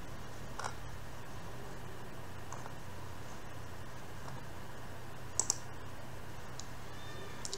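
A computer mouse clicks a few times, sharp and close, while a WordPress landing page is built, with a steady low hum and faint background hiss throughout.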